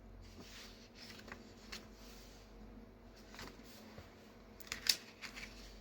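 Papers shuffled and handled while a KITS journal is assembled: soft, quiet rustling and light sliding with a few crisper crinkles near the end.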